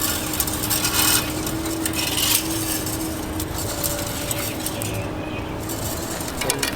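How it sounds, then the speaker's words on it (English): A rake drags grass seed across bare lawn soil in a transition-zone yard: a continuous, close, gritty scraping and rubbing with slight surges over a faint steady hum. "the reason we got this rake now is that just to basically drag it out"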